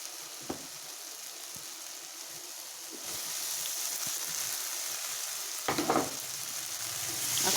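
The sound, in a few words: masala with soya chunks and boiled potato being fried and stirred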